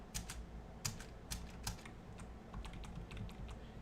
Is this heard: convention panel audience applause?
no